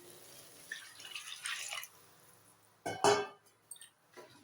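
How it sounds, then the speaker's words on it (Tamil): Water poured into a pot of fried prawns for prawn biryani: a soft splashing pour runs for about two seconds, then a louder, brief splash and clink near the end, close and clear with no talk. "இப்போ இதில் தண்ணி சேர்த்துக்கலாம்."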